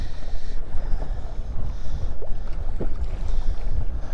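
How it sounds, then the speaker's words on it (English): Strong wind buffets the microphone on a Central Minnesota lake while fishing from a boat, a constant roaring rumble with water lapping against the hull and no talking. "this wind is brutal"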